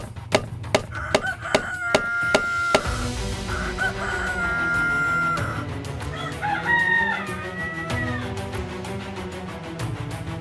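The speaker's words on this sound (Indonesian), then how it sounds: "Suara lesung akan membangunkan ayam dan membuat ayam berkokok." A rooster crows loudly several times, with other fowl calling and clucking around it and a few sharp knocks of a rice-pounding mortar at the start.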